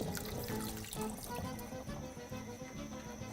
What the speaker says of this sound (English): rinse your hands very briefly